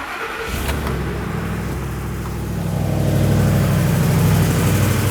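A 2009-2014 Ford F-150 engine cranks and catches after a moment, then settles into a steady idle that grows slightly louder and fuller as it runs, with no talking.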